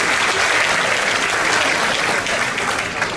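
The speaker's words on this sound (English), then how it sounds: "Give yourself a big round of applause." Sustained applause from a large crowd of loyalty-club cruise passengers at a top-tier event aboard Odyssey of the Seas, steady and dense throughout with a broad wash of many hands clapping at close range.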